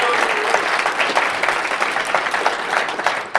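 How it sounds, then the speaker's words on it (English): An audience claps and cheers for a hypnotist stepping on stage, a dense burst of applause that carries steadily from start to finish. "Give him a round of applause right now."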